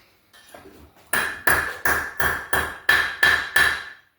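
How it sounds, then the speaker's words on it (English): Metal hammered on a blacksmith anvil, a few light taps followed by eight loud, evenly spaced ringing blows with a bright metallic ping, close and without speech. "Blacksmith anvil's handy, isn't it?"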